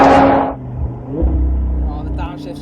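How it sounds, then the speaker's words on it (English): A limited-edition Audi R8 GT V10 with a Milltek exhaust downshifts, opening with a loud burst and settling into a deep engine rumble and burble, heard close from inside the car over wind buffeting. "Oh, the downshifts just sound so good."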